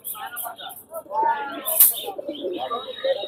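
Pigeons coo and chirp at a busy pigeon market, several soft, warbling calls scattered close by amid quiet background activity.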